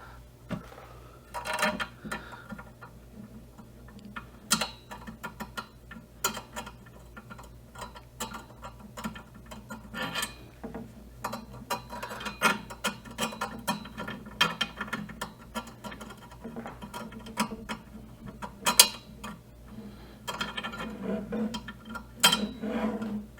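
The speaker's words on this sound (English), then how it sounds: "We use our screwdriver to tighten those up." Screwdriver turning cam screws on a wooden nightstand with a charging station and drawer during assembly, giving repeated clicking, ratcheting ticks and small knocks at close range with no talking.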